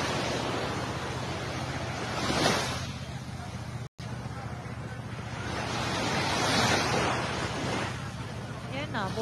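Sea surf rushing back ashore after a small tsunami in Davao, a broad roaring wash of waves with heavy wind buffeting the microphone, swelling and easing in two long surges, with a brief dropout partway through.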